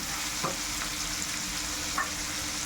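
Chicken being fried with vegetables in a pan, a steady close sizzle broken by a couple of brief stirring scrapes.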